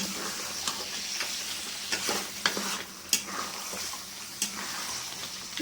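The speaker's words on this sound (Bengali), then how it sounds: "ঝোলটার সঙ্গে মাংসটাকে একটু মিশিয়ে নিলাম" A spoon stirs mutton curry through its red gravy in a pan, giving a soft steady sizzle that is broken by several sharp scraping clacks against the metal. No one speaks over it.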